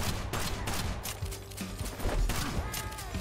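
Gunfire rattles steadily through a video game fight, with rapid shots over a busy game soundscape, fairly faint, with mechanical clicks and a few tonal effects but no talking.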